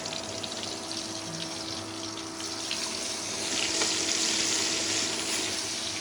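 Steady sizzling of onions frying in a pan, a continuous hiss that swells louder partway through, with no voices.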